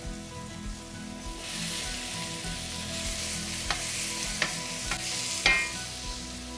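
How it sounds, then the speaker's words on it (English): Sliced peppers fry in a little oil in a hot pan, a steady close sizzle rising after a quieter start, with a few sharp pops and clinks of stirring near the end. "Hot pan, bit of oil. Turn on the fan. Cut up our peppers."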